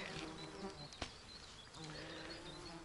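Midges and mosquitoes whine and buzz close by outdoors on a hot summer day, with faint wingbeat tones drifting in and out and one brief knock partway through.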